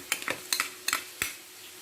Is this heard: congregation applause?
no